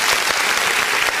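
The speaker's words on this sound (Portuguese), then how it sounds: "Vamos aplaudir o nome do Senhor Jesus." Church congregation clapping in a steady, dense burst of applause, loud and close throughout the short moment with no voices on top.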